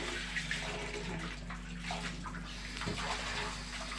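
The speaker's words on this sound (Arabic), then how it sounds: "نغسل الاول الملوخيه" Tap water runs steadily over fresh molokhia leaves being washed in a kitchen, a constant close, moderately loud splashing flow with faint background hum and no talk.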